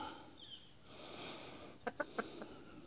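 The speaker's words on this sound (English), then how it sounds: "Is there another rooster crowing at you?" A faint rooster call in the distance, a few short clucking bursts over quiet outdoor background noise.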